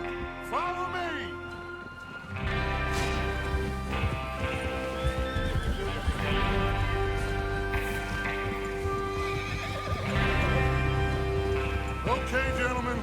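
Horses whinny and neigh repeatedly over galloping hoofbeats and rumbling movement in the video game Red Dead Redemption 2, with a voice briefly underneath; busy, close and sustained.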